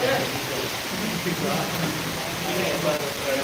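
Heavy rain falling in Dantiwada taluka forms a steady hissing bed while a person speaks over it, the voice sitting clearly above the downpour.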